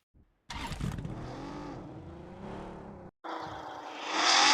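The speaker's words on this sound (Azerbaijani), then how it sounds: "Motosikletmiş." Video game motorcycle engine, heard as a loud continuous drone that shifts pitch, cuts out briefly, then returns and swells into a bright, high revving whine toward the end.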